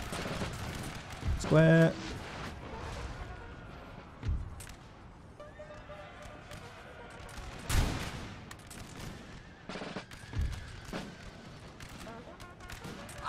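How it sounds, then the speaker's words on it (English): Napoleon: Total War battle with howitzer artillery: scattered booming shots and crackling volleys rise and fade over a busy background. A voice shouts a command, with a bugle call near the start. "Oh! Howitzers!"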